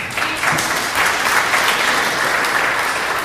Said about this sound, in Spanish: Un aplauso a la hermana.